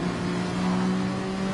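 A race car in a PlayStation racing game accelerates at the race start, its engine revving loud and steady with a strong buzzing tone over a short burst.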